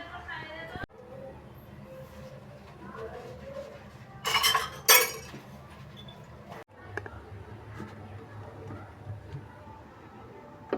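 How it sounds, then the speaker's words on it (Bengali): Dishes and tea cups being washed in a home kitchen, with soft clinks and a couple of louder clattering knocks of crockery over a steady low background, a quiet voice briefly audible. "চলো ধুয়ে নিই বাসন পেয়ালাগুলো"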